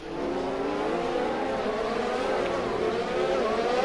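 Formula 1 cars race at the Belgian Grand Prix in the F1 20 video game, a steady high engine whine with shifting pitch that holds loud and unbroken throughout, with no talk over it.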